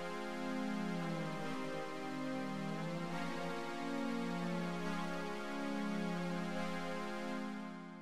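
Sustained synthesizer chords slide smoothly from one to the next with polyphonic MPE pitch bends, a slow, continuous pad sound with no talking.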